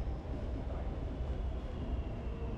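Singapore metro train running, a steady continuous low rumble and rail noise filling the whole stretch at moderate level, with no voices.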